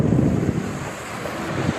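Strong wind from a rain squall at sea buffets the microphone aboard a small racing sailboat, a loud continuous roar with rushing water beneath.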